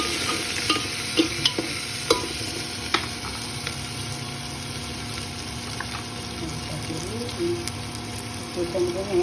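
Onion frying in a pan sizzles steadily while a spoon stirs it, with occasional clinks and scrapes, close and continuous; a voice talks faintly over parts of it.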